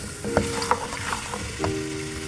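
Mutton fries in oil for yakhni pulao, a steady sizzle with a few scraping stirs of a spoon across the pan, close by with no talking.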